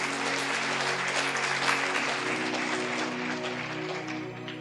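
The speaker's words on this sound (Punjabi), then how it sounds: "ਤਾਲੀ ਮਾਰੀਏ ਜ਼ੋਰ ਦੀ" Loud, dense applause from a church congregation during a sermon fills the space steadily, a sustained wash of many hands clapping that eases slightly toward the end.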